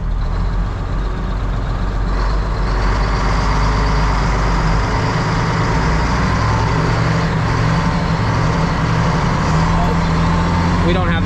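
A UPS delivery truck towing a long trailer labours up a driveway, its loud engine rumbling steadily and close throughout, with a person talking over it.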